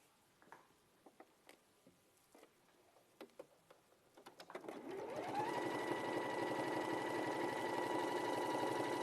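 A sewing machine stitching a folded hem, preceded by light clicks and handling taps, then starting up into a steady, even, close mechanical whir that runs continuously to the end.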